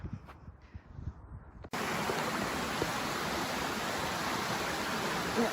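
Waterfall in Scotland: a loud, steady broadband rush of falling water begins abruptly after a quieter, rustling outdoor stretch and continues unbroken at close range.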